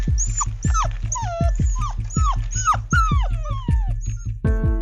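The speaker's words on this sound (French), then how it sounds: "L'animal n'arrête pas d'aboyer et campe devant la pâtisserie." A dog barks without stopping in front of a pastry shop, a close, loud run of rapid barks with whining yips and high squeals, heard alone.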